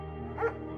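A German shepherd gives a single short bark in the video game Firewatch, rising briefly over a steady game music bed.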